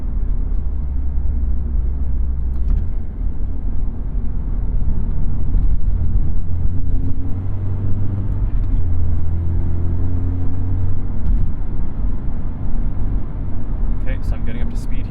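Manual transmission car accelerating in fifth gear, heard from inside as a loud, steady engine drone with rising harmonics and constant road rumble, with no talk.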